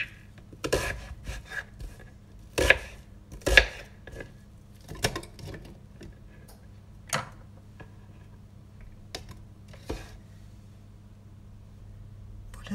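A knife chops basil on a cutting board in a home kitchen, sparse sharp knocks spaced unevenly, a few louder strikes early and fainter ones later, close by with a low steady hum underneath and no speech.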